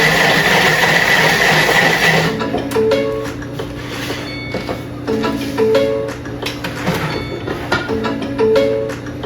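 Thermomix TM7 food processor blending vegetable juice at speed 6: a loud, dense whirring burst lasting about two seconds, then quieter mechanical clicking and ticking from the machine.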